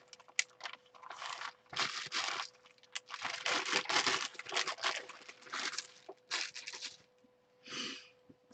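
Paper is crumpled and crinkled by hand while working on a tile project, producing bursts of dry rustling and crackling that come and go over several seconds, close and fairly loud.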